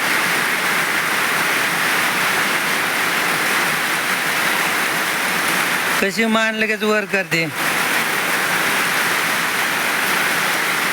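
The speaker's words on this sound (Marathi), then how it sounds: "पाऊस तर चांगला चालू आहे राव" Steady heavy rain roars as a dense hiss throughout, with a voice speaking briefly over it partway through.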